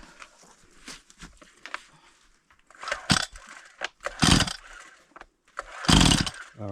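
A small two-stroke engine, likely a chainsaw, runs on choke outdoors at a remote Alaska bush homestead in winter, sputtering and revving in uneven bursts with loud surges near the end and brief gaps between.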